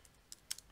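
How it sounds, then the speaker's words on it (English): A few quiet, scattered keystrokes on a computer keyboard, close and faint with brief gaps between taps, alone with no voices. "I'm very bad at typing sometimes, forgive me for that."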